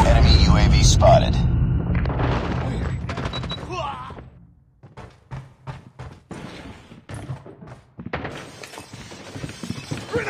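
Flashbang grenade going off in Call of Duty Mobile multiplayer: a loud shattering burst with heavy noise early, then a stretch of rapid sharp bangs and crackles, with in-game voices calling out over it.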